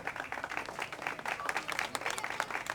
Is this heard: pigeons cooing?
no